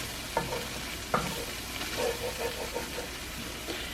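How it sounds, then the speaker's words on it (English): A paprika and flour mixture cooks in a pan as a thickening base for chicken paprikash, giving a soft, steady sizzle with a few light scraping stirs, close and faint. "And I cook it for about a minute or 2 so that the flour taste gets cooked off."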